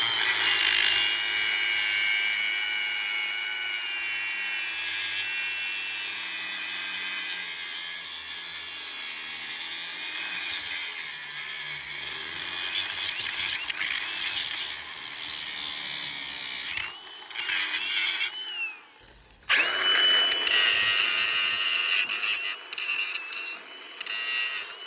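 Rusty bolt heads on the underside of an auction-bought unit's container being cut off with a power tool, a loud, continuous high grinding whine that dips briefly near the end, then resumes.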